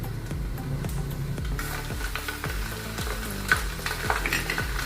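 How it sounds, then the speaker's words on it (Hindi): Garlic fries in hot oil for mango pickle with a steady, dense sizzle and crackle, while a metal spoon scrapes and clanks against the pan in repeated strokes. It is close and continuous, and no one speaks. "लहसुन डाल देंगे पहले। तेल अभी गर्म है इसलिए मैंने डाल दिया है।"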